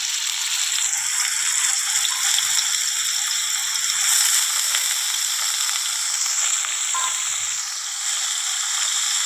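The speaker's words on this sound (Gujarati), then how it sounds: "અને ડુંગળીને સરસ રીતે શેકાવા દઈશું." Chopped onions fry in a pan, a steady, close bright sizzling hiss that carries on evenly throughout with faint bubbling underneath.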